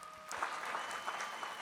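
An audience applauds at a policy summit in Jerusalem, steady moderate clapping throughout with no talk over it.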